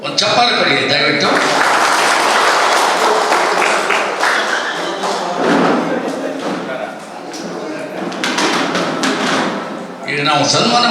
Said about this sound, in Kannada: ಒಂದು ಚಪ್ಪಾಳೆ ಕೊಡಿ ದಯವಿಟ್ಟು.